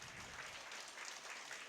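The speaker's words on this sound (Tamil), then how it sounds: "நல்லா கைத்தட்டலாமே." Many hands in a seated audience applaud together in a continuous soft patter. The clapping is fairly faint and distant, steady from start to finish, with no speech.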